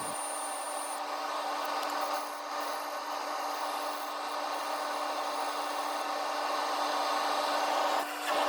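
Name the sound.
sanding padauk and resin woodturning piece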